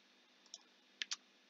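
A computer mouse clicks while pressing a download button: one soft click, then a quick close pair of sharper clicks, faint and isolated in near silence.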